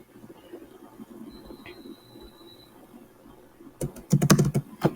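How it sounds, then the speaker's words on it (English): Close, crisp clatter of typing on a computer keyboard, a quick flurry of keystrokes after a few seconds of quiet room tone. "let me type it somewhere"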